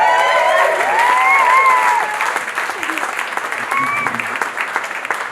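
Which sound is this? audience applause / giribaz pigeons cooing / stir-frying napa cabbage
audience applause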